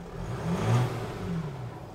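A 2017 Mercedes GLS 350D 4Matic AMG diesel engine in sport mode revs briefly, a soft low rumble swelling and easing back, fairly quiet and with no talk over it.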